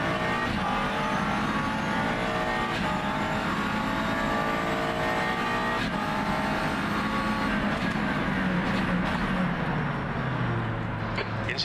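A USF2000 open-wheel race car in rFactor 2 screams through the gears around Hockenheim, its engine loud and continuous with rising and falling revs, and someone talks faintly beneath it.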